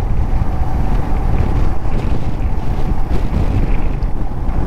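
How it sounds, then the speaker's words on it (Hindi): Strong wind buffets hard on a mountain road between Kalpa and Kaza in Spiti, roaring loudly and continuously with a rumbling low end and no talking. "बहुत तेज़ हवा चल रही है"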